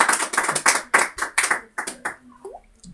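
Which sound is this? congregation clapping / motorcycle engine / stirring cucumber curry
congregation clapping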